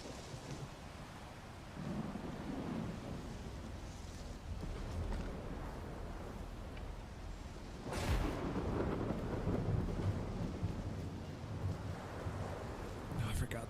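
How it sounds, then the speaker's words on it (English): A thunderstorm in the S.T.A.L.K.E.R. 2 video game brings steady rain and wind, with low rumbling throughout and a sharper crack of thunder partway through. Faint speech can be made out under the storm. "Even though the emission is over, this storm can still fuck you up."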